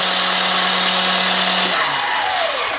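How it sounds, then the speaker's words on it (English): The starter motor of a Honda CX500 motorcycle cranks a previously stuck engine with a loud, continuous mechanical whir up close, its pitch dropping as it winds down near the end. "That's my starter making some noise"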